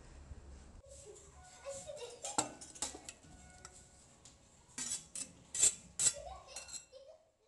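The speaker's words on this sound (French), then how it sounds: "je vais les écraser avec la fourchette pour obtenir une pâte de pommes de terre" Cooked potatoes mashed with a fork in a bowl, making quiet, irregular metallic taps and scrapes of fork against the bowl, with clusters of sharper clinks and pauses between, in a Moroccan home kitchen.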